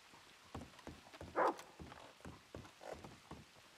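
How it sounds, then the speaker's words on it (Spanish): Horse hooves clip-clopping along a main street in a role-play video game, a quiet irregular series of soft thuds with one louder knock, heard faint and alone. "Caballos, calle principal."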